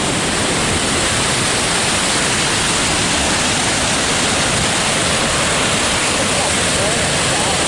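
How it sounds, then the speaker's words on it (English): A large waterfall on the Lake Superior shore roars as a steady, loud wash of falling water, close and continuous with no break, drowning out everything else. "There's the waterfall. It is the biggest one we've seen yet."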